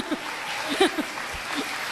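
Audience clapping fills the room, steady applause from a crowd with a few voices and a chuckle mixed in.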